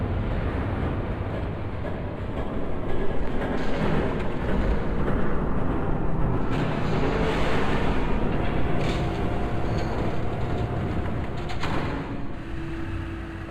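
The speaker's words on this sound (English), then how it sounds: "There's a train coming." Train passing in a Batman video game, a loud continuous low rumble with broadband rattling and roar that swells around the middle and holds steady for the whole stretch.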